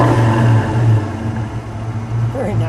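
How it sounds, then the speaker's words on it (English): Red 1986 Ford Mustang GT convertible with a 5.0-liter V8 and five-speed, revving loudly and close by with a steady deep drone that rises briefly before settling back toward idle. "Go ahead, give it a little rev."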